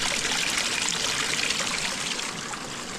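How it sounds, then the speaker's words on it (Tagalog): Spring water in a forest gushes and trickles from the ground, a loud, close, steady rushing flow that fades slightly toward the end, with no voices. "Yan, mga mina po ng tubig yan."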